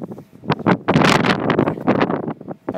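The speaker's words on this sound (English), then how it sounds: "I'm sorry about the wind and that." Strong outdoor wind buffets the microphone in gusty bursts, loud and close, with rumbling blasts that rise and fall irregularly and no clear speech.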